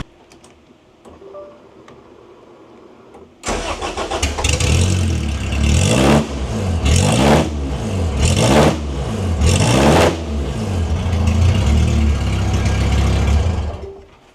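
A supercharged Honda B18C VTEC engine in a 1992 Honda Civic cranks and fires up, then idles loud and close with rhythmic surging revs for about ten seconds before settling.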